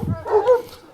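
A young kangal-type dog lets out a short yip and bark up close, a brief pair of sharp calls lasting under a second.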